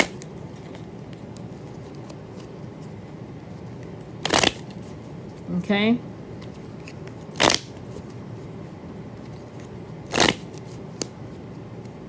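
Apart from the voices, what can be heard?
shuffling tarot cards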